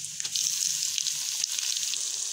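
Tomatoes frying in a pan with onions and garlic-ginger paste, a steady bright sizzle with faint stirring scrapes, close and continuous without speech.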